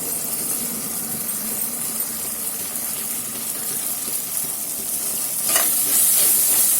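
Coriander and chilli powder being stirred into onion-tomato masala frying in a clay pot, a steady close sizzle with soft scraping that swells louder near the end.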